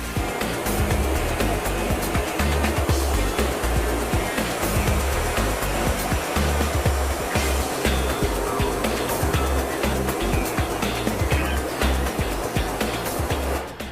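Water sprays steadily onto a screen printing screen during a rinse, a constant hissing wash with rough splashing texture that stays at an even level throughout.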